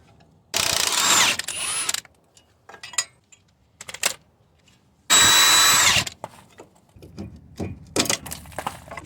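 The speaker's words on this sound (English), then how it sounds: "I'm gonna be removing the axle nut here, 32mm axle nut" A power ratchet works on the 32mm axle nut of a Dodge Durango 4.7, firing two loud buzzing bursts about a second long, with scattered clanks and tool handling in between.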